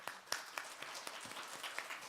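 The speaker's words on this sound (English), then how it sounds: "Please welcome him with a big round of applause." Audience at a forum in Seoul applauding to welcome a speaker, with a brief, moderately loud spell of clapping and a few sharper individual claps standing out.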